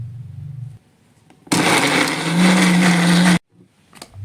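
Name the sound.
blender blending frozen corn kernels and an egg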